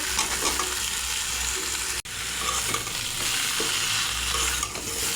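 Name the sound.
pumpkin and Malabar spinach added to spices frying in pan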